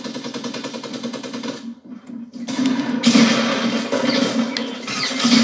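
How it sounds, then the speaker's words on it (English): Bursts of rapid gunfire from a gun in the Fortnite video game, loud and repeated with a short pause in the middle, carrying on to the end. "I'm shooting him!"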